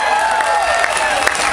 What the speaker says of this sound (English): Let's give the U.S. Army a big round of applause, all of our military.